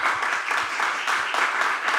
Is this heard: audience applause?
yes